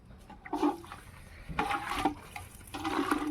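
Water is poured into a pot for mutton rice in bursts, three splashing pours separated by short pauses, close and fairly quiet.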